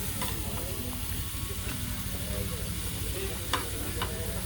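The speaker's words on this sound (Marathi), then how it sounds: "एकच शेगडी असल्यामुळे निखाऱ्यावर जेवण बनवलं जात आहे." Food cooks over glowing charcoal embers on a single stove at a villa dinner, giving a steady, close sizzle and hiss with occasional stirring clicks, continuous throughout and without clear talk.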